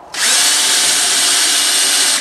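A power drill bores a center hole in a lawn care trailer lock, one steady high whine running about two seconds after a quick start, close and loud with no talking.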